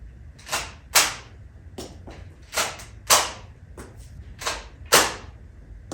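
A Nerf Arrow Strike toy bow from 2001 firing foam arrows, giving a series of sharp snapping releases with thuds, roughly one every half second to second, close and fairly loud with no talk.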